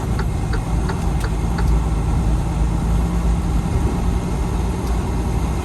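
A semi truck pulls into a Flying J truck stop: the engine rumbles low and steady from inside the cab while a regular clicking tick repeats throughout.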